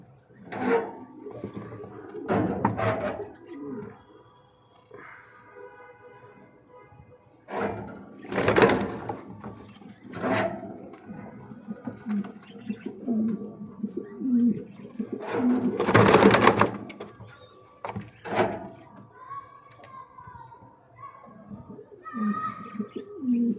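A Jacobin pigeon pair coos in repeated low rolling calls, broken by a few loud, broad rustling bursts, with no talk over them.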